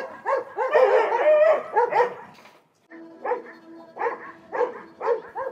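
Several Doberman dogs at a Chinese dog-trade kennel bark and yip in overlapping bursts, loud and close, with a brief lull before another round of sharp barks.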